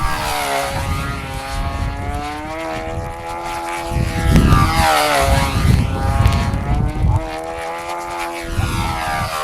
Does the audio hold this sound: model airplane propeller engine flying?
yes